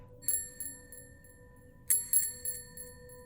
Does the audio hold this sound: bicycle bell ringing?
yes